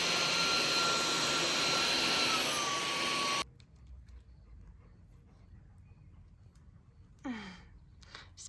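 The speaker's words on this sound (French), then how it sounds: "Aspirateur, même pas peur." A loud vacuum cleaner whines steadily for a few seconds, then cuts off abruptly, leaving quiet room tone and a brief rustle near the end.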